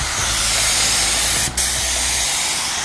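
HVLP spray gun painting a motorcycle part in a garage, a loud steady hiss of atomising paint and air with one brief break near the middle.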